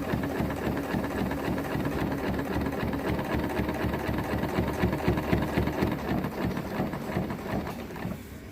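A sewing machine runs steadily while stitching a Costco down throw underquilt, giving a close, continuous mechanical whir with a fast, even rhythm and no talking.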